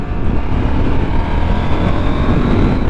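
A KTM 890 Adventure motorcycle engine pulls steadily under acceleration, a dense, constant loud drone with wind rush filling the whole clip and no voices.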